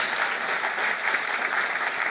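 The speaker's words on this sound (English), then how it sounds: "I think that deserves a round of applause for Garance" Conference audience applauding, steady dense clapping filling the whole short stretch at moderate loudness, with no voices over it.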